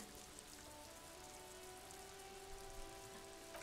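Steady rain patters across the streets of Jamrock in Disco Elysium, a continuous soft hiss close by under faint low tones, with no talk.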